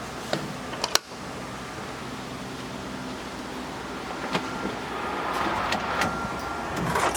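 A car engine idles with a 12V air conditioning kit and its fan running, a steady low hum with a sharp click near the start and faint ticks over it.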